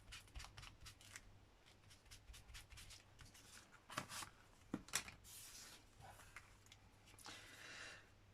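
Scissors snip paper in a fussy cut around a pocket piece for a junk journal, a run of quick close crisp cuts with small rustles and pauses, fairly quiet indoors.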